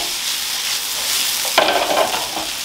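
Potatoes stirred in a frying pan alongside onions for corned beef hash, a steady loud sizzle with a burst of scraping and spattering partway through, and no voice.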